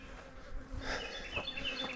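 Bees buzz steadily in a bee yard, a dense, continuous hum of many insects close by with individual bees droning past now and then.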